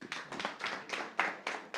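A handful of people clap at a maize farmers' outreach meeting, a short run of sparse, distinct claps in an uneven rhythm, fairly quiet and close.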